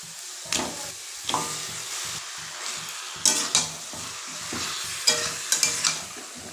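Chicken pieces land in a pan of fried spices and sizzle, with repeated stirring scrapes giving bursts of crackle over a steady low frying hiss.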